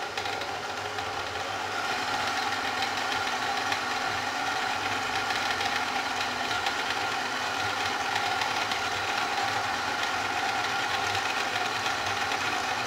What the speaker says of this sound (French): je vais commencer à pétrir ma pâte et à mettre le lait froid au fur et à mesure